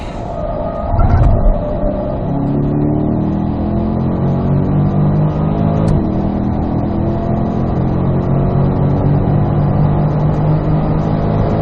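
Race car on a track session, loud in-car engine roar climbing steadily through the revs as it accelerates, with rising harmonic sweeps and a continuous dense drone throughout, no voices.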